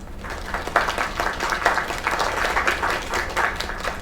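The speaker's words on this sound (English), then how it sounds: "Another round of applause." Steady applause from a crowd in the video game Lake, a dense patter of clapping that continues evenly for several seconds.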